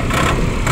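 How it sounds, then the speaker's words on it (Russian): A Mitsubishi MT20 mini tractor's diesel engine runs steadily at close range, a dense continuous low rumble with no talk over it. "Двигатель прекрасно работает, прекрасно отзывается на газ"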